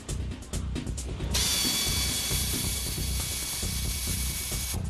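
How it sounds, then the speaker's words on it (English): Axle of a scrapped Porsche being hand-cranked during dismantling, a rapid ratcheting clatter of a pawl and gears that runs loud and continuous, close by. "hand cranks the left axle"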